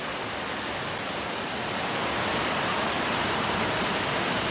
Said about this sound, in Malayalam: മഴയുടെ സൗണ്ട് കാരണം